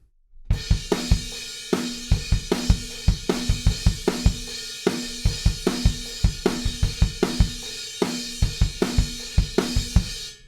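Up-tempo punk drum groove from a song, played alone on a kit with a driving steady beat, extra snare hits and crashing cymbals, loud and close throughout.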